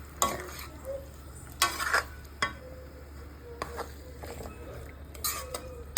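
Chicken pieces with chilli and salt are stirred in a pan: a spoon scrapes and clinks against the metal in several separate strokes over a faint, quiet sizzle.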